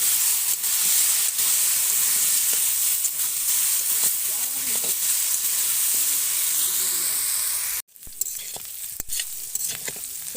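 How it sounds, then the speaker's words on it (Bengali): Siting fish and potato pieces with turmeric sauté in a pan, giving a loud, continuous close sizzle and hiss with stirring scrapes, a brief cutoff near the end, then the sizzle resumes. "খুব ভালো করে কষিয়ে নিয়েছি"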